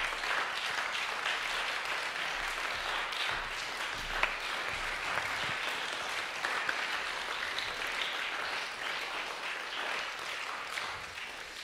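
Sustained audience applause for a prize-winning pianist at an awards concert on stage, steady dense clapping throughout with no speech over it.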